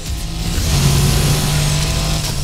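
A car engine in the racing game Need for Speed Heat holds a steady, loud, droning roar at high revs throughout, with no voices over it.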